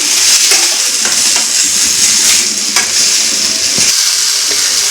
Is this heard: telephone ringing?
no